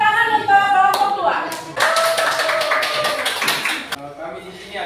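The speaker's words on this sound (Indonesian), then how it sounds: "Ya, tepuk tangan." A classroom of students claps for a presenting group, the applause starting in a burst and continuing briskly for a few seconds, preceded and followed by a teacher's speaking voice.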